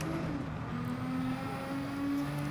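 Nismo GT LM race car lapping the Portilla track in Gran Turismo 7, its engine a steady, sustained droning tone with a faint higher whine, holding nearly constant pitch and loudness throughout.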